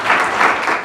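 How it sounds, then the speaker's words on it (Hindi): A classroom of students applauds together, a brief burst of dense, loud clapping with no voices over it. "सारी क्लास के लिए तालियां।"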